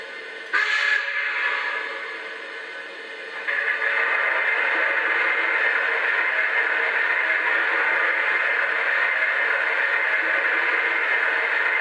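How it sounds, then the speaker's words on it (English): Coal pours into the tender of a Lionel Legacy S2 Pennsylvania Railroad steam turbine model locomotive as a continuous rushing, rattling noise. A short whistle-like blip comes early, then the loading noise swells and holds steady without a break, with no voices. "Here's the sound of coal being loaded into the tender,"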